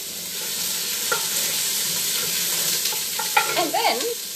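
Chilies fry quickly in a little oil in a pan for a tomato sauce. A steady close sizzle runs throughout, with stirring clicks and a burst of bubbling toward the end.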